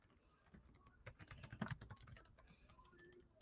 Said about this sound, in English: I'm typing it in the chat now.